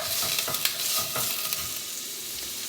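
Half an onion frying in hot oil in a pan for chile rellenos, giving a steady, close, loud sizzle with small crackling pops throughout.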